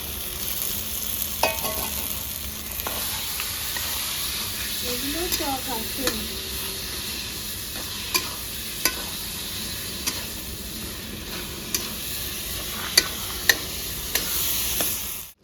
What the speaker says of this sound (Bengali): একটু জল দেবো নাহলে দেখে মশলাটা পুড়ে যাবে বন্ধুরা কেটে রাখা টমেটো দিয়ে দেবো